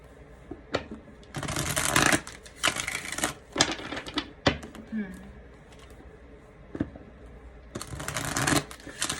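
Tarot cards are shuffled in several bursts of rapid, crisp flicking, loud and close, broken by pauses with softer handling in between.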